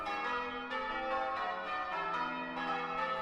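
The church bells of St Mary's in Hitchin, England peal continuously in a dense, overlapping ring, loud and sustained with repeated strikes throughout.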